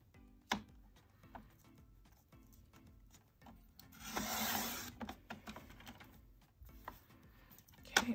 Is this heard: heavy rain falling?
no